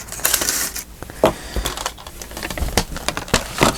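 Close, crisp snips and crunches as paper is cut for a craft project with pockets, tags and cards, coming in irregular bursts with no talking.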